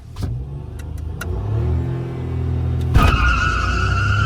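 A Maruti Swift and a turbocharged Hyundai i10 Nios launch in a drag race, engines revving loudly with rising tones, then a sharp burst as a gear change or second car surges past, close and without talk.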